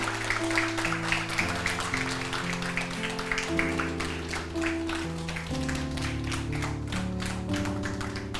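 A church congregation applauding at an ordination thanksgiving service: a steady wash of dense, rapid clapping that runs throughout, over sustained organ or keyboard chords.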